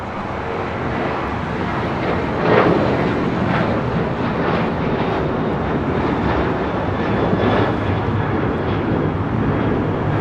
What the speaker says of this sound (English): 126 coming in from Tokyo Haneda on the 787-9 Dreamliner